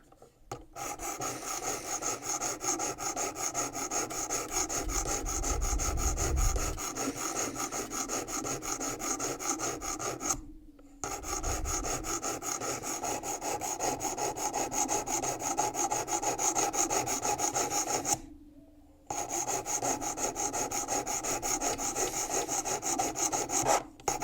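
A knife blade rasps repeatedly along the stone of a WorkSharp Precision Adjust sharpener, a steady close-up scraping that runs in long strokes with two brief pauses, no voices.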